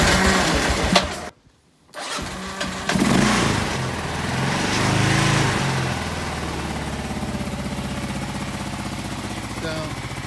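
Kawasaki KLR motorcycle engine, not yet warmed up, firing after a short pause and settling into a steady, loud idle that runs continuously, with a person talking briefly near the start.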